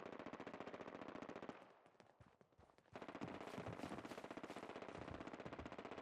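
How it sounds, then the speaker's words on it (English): Rapid automatic gunfire from Fallout 4 combat rattles in dense, loud bursts, pausing briefly in the middle before resuming with sustained machine-gun fire and overlapping shots until the end. "just hearing the sounds of combat"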